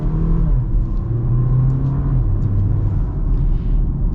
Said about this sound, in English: I love the little turbo blow-off noise it just made